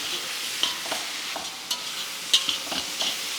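Tamarind pulp and ginger frying in a pan for a ridge gourd chutney, giving a steady hiss with scattered light scrapes and clicks as the mixture is stirred.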